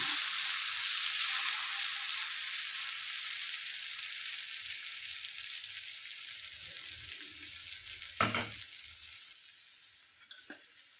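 Pearl millet dosa batter hisses on a hot pan, a steady sizzle that slowly fades, punctuated by a sharp utensil clink and a softer tap near the end.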